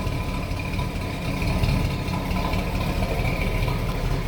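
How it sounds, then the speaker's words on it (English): A 1963 Buick Riviera's Wildcat V8 idles with a deep, steady rumble, low and throbbing, running continuously at close range without any voices. "A little rumble out of that Wildcat engine"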